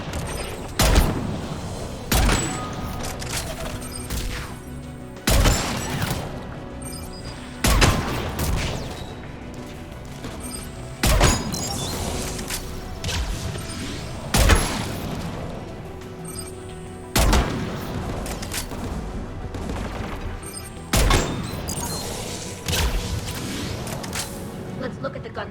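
Anti-aircraft guns firing in the video game Mass Effect 3: heavy booming volleys about every three seconds over a constant mechanical rumble, with voices talking between the blasts.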